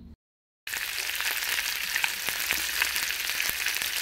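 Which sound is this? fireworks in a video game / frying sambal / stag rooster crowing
frying sambal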